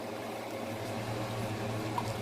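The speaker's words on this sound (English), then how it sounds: "I'll let this tomato fry a little bit." Tomato and onions fry in leftover turkey oil for a stew, making a steady close sizzle and bubbling hiss that holds at an even level with no talking.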